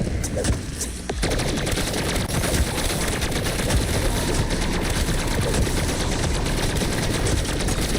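Rapid automatic gunfire from an STG rifle with no attachments in Black Ops 6 Zombies, a loud, continuous stream of close shots with a brief gap near the start, then sustained fire to the end.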